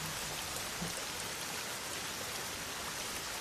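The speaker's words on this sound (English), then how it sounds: "and listen to the rain." Steady, dense rain falling through a forest, a continuous close hiss of drops on leaves and surfaces with no gaps or other sounds.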